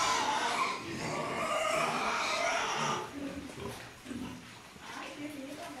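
Pigs on a farm grunting and snuffling in a loud, busy mix of oinks and wheezy squeals, with people talking over them throughout.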